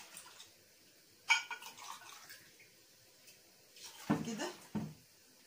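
Hot water is poured from cups over rice in a tray, with a short splashing pour early on and a longer, heavier pour near the end, separated by quiet.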